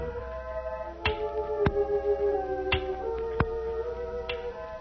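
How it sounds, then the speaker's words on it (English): Sharp, isolated taps land at uneven intervals, five or six in a few seconds, over a steady background hum with some tonal drone. "I can hear his cane tapping."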